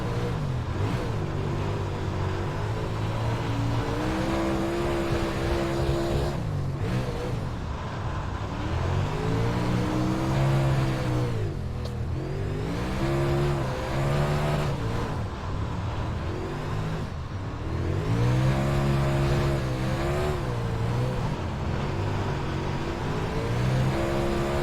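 A late model race car laps the dirt oval at Kokomo Speedway in iRacing, its engine droning steadily and rising and falling in pitch as it lifts and accelerates through the corners, continuous and fairly close.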